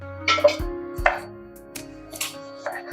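A knife cutting tomatoes on a board makes a few separate, sharp close chops with short pauses between them, alone over a low steady kitchen hum.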